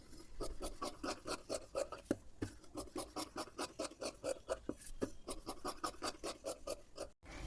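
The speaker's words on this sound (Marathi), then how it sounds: "आता ह्या पट्ट्या दोन्ही सुद्धा आपल्याला कट करून घ्यायचे आहेत" Scissors cut fabric strips for blouse piping, heard as a close, quiet, steady series of rhythmic rasping snips. No one speaks.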